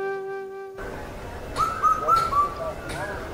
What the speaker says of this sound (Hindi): कफुआ कूक रहा है।